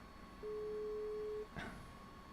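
A phone call on speakerphone gives a single steady ringback tone lasting about a second, moderately loud in a quiet room, followed by a brief soft rustle.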